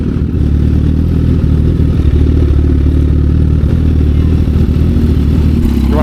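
Liter-class sport motorcycle engine, a Kawasaki H2 or Honda CBR1000RR at 1,000 miles, idling and revving up close. The deep engine rumble runs steady and loud throughout, with light mechanical clatter.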